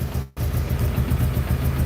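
A dune buggy with a Volkswagen engine and carburettors idles roughly close by, a low, steady, lumpy four-cylinder chug that runs without a break and has no talk over it.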